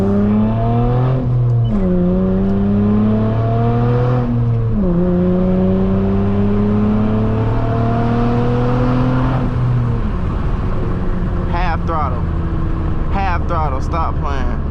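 A tuned 3.5-litre V6 in an 8th-generation Honda Accord, running KTuned tuning on 91+ fuel, revs hard along a backroad, heard from inside the car. Its loud rising howl climbs through several gear changes, with a voice in the cabin now and then.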